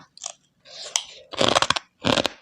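Crunchy Thai pork rinds (khaep mu) bitten and chewed close up, eaten alongside papaya salad: a few short dry crackles, then two loud dense bursts of crunching, no talk.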